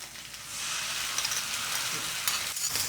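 Garlic and ginger paste sizzles steadily while frying in a pan for beef karahi, a loud continuous hiss of hot oil with no talking over it.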